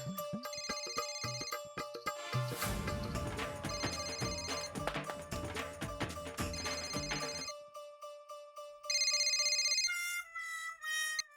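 A telephone rings with a bright electronic ringtone melody, loud and repeated over several seconds, with musical background, no talk during the ringing.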